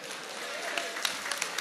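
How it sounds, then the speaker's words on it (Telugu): Loud, sustained applause from an audience at a political party gathering, a dense steady wash of clapping with a few sharper individual claps standing out near the end. "అందరూ గట్టిగా చప్పట్లు కొట్టండి"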